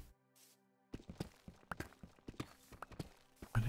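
A Minecraft horse's hooves clop in an irregular run of sharp, close taps after a quiet opening, ending in a louder thump.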